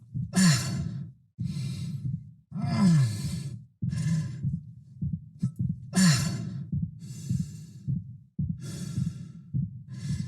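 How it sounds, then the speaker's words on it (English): In the Dead Space Remake, an injured character breathes heavily and in pain: loud, close, ragged inhales and exhales repeat in a rhythm, broken by strained groans and winces. "when he moves around in this state, we start to introduce little winces of pain mixed into his breathing cycle"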